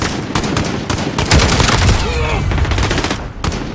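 A light machine gun in Call of Duty: Modern Warfare fires loud, rapid sustained bursts of automatic gunfire close by, with brief pauses between volleys, and a voice talks faintly underneath.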